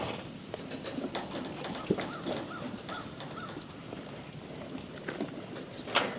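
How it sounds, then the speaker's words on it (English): Light rain patters steadily at a horse farm on a September morning while horses eat breakfast, with scattered soft impacts and occasional faint calls from birds in the background. "It's starting to rain a little bit right now"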